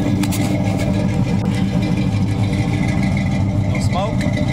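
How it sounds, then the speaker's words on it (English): Exhaust of a 1977 Pontiac Trans Am at idle, a steady low rumble close by with a few brief sharper sounds over it. "Go around, listen to the exhaust."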